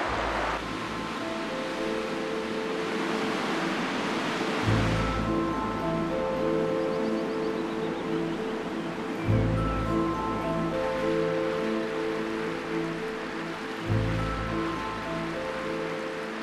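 The River Tees rushes over Low Force waterfall in Teesdale, a steady broadband roar of falling water, with faint sustained tones drifting over it.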